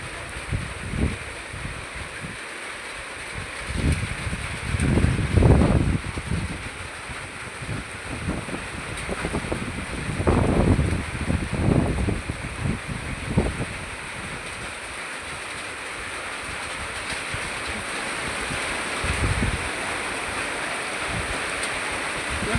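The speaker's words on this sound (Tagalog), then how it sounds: "Pabugso-bugso yung hangin, no?" Gusty typhoon wind on Balut Island, Sarangani, roaring in repeated surges that swell and fade over a constant windy hiss, with bursts buffeting the microphone.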